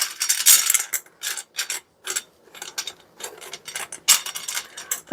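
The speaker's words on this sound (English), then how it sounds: "that is my cat knocking everything over." Cat knocking over blue beads and floral arrangement items, heard as a quick series of sharp clattering rattles and small hard taps at irregular intervals, close and fairly quiet, with no talking.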